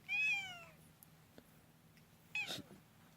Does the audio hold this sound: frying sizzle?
no